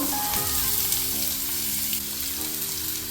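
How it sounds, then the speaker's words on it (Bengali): Chopped vegetables hit hot oil in a wok and fry with a loud continuous sizzle, close up and steady throughout with a brief clatter at the start. "এবার আমি সব এগুলো দিয়ে দেবো, ভেজিসগুলো মানে সব সবজি যেগুলো কেটে রেখেছিলাম সেগুলো সব আমি এখন কড়াইয়ে দিয়ে দেবো।"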